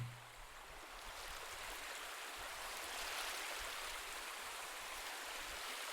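Sea waves washing on a Mediterranean shore, a steady broad wash of surf with no distinct breaks, soft and continuous throughout.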